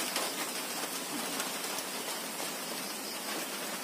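Heavy rain pours down in strong wind, a dense, steady, close hiss of drops striking surfaces with no pauses and no voices.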